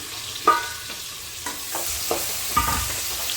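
Marinated drumstick (moringa) pods fry with onions in a pan for drumstick biryani, a soft sizzle under several sharp clatters and scrapes of stirring, close up and with no voices.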